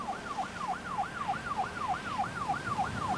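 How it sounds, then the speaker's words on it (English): Wailing emergency sirens from a Stokes County ambulance and rescue vehicles rise and fall in a steady repeating sweep, loud and continuous over a low rumbling background with no talking. "When I heard the sirens"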